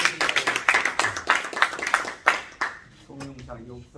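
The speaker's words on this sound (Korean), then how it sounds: "박수로 환영합시다." Applause at a church pension members' general assembly in Korea welcomes a newly arrived director, a burst of many hands clapping in rapid rhythm that thins into a few scattered claps before fading into room noise.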